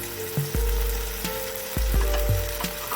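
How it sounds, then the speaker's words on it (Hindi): Masala sizzles steadily in a hot pan with a few spoon scrapes and stirring knocks, close and alone with no voices. "ये देखिए ये मसाला बड़ा अच्छा सा भुन रहा है।"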